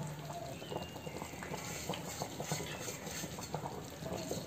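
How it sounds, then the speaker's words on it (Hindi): A pot of kadhi bubbles at a steady rolling boil, soft continuous popping and gurgling close to the mic with faint clinks, no talking. "देखिए कढ़ी में हमारा अच्छे से उबाल आ गया है"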